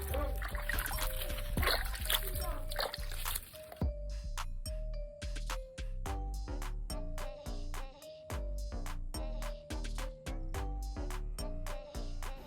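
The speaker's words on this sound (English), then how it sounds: "So after you slightly cover up the seeds, water like how I am doing right now." Lettuce seeds in soil being watered at home, a splashing pour followed by a run of quick dribbling splats and drips, close up, with a voice heard faintly in the background.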